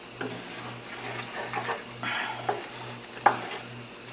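A creamy herb shrimp pasta sauce with tomatoes being stirred in a pan, giving soft scraping and bubbling with a few sharper spoon clicks, over a steady low hum, close and fairly quiet with no talking.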